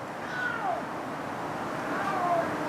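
A cat meows twice from across the street, faint and distant over steady outdoor background noise.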